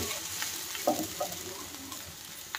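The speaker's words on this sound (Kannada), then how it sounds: "ಈರುಳ್ಳಿ ಎಲ್ಲ ಚೆನ್ನಾಗಿ ಫ್ರೈ ಆಗಬೇಕು" Onions with fenugreek and pepper frying in a pan for fish curry, a soft continuous sizzle with a few faint stirring scrapes, close but quiet.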